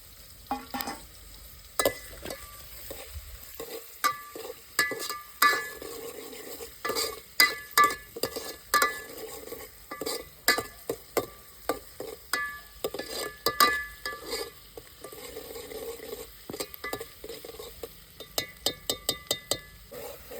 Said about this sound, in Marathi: आता हे कांदा लाल झालेला आहे, चांगला परतून घेतलाय.